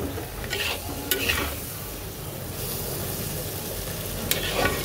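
Grated potatoes fry with tomato in a pan while a utensil stirs them. Close, steady sizzling runs throughout, with a few sharper scraping strokes against the pan.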